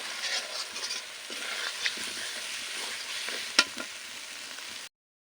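Boiled potatoes sizzling and frying with masala in a pan for Odia rohu fish curry, a steady close hiss with the scrape of stirring and one sharp clack near the end before it cuts off.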